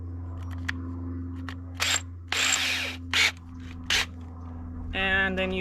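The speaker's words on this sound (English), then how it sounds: "So I'm going to drill in some wood." A power drill whirs in several short bursts into wood over a steady low hum, with small clicks and taps between, followed by a brief higher-pitched whine at the end.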